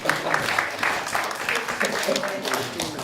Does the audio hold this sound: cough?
no